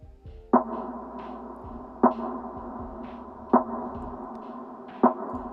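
Gibbons' rising, whooping calls glide upward one after another from a distance at an animal park, followed by closer rustling and a few sharp knocks near the end.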